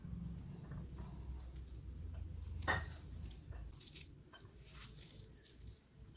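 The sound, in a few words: water being added to onion vada batter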